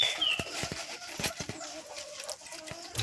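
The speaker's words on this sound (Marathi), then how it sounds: "कोंबडी बघा कशी आवाज करतायत" Chickens cluck in short, scattered bursts nearby, with brief sharp noises and a faint high chirp over a steady outdoor background, beside fish being cleaned for cooking on a wood-fired stove.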